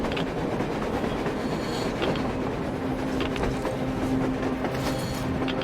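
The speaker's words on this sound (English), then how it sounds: "A train! A damn train on the surface!" A train in the Metro Exodus video game rolls through a blizzard, a fairly faint rumbling clatter of wheels and carriages with a low whine, steady and distant-sounding, alone without talk.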